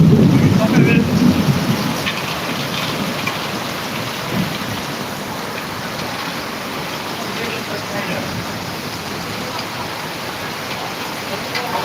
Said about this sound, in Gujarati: વીજળી બહુ થાય છે કડાકા ભડાકા સાથે વરસાદ પડી રહ્યો